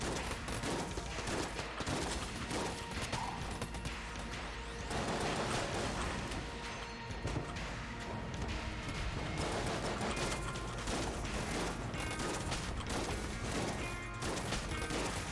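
Relentless rapid gunfire from the roguelike shooter Enter the Gungeon, dense overlapping shots and impacts pouring out loud and continuous with no break.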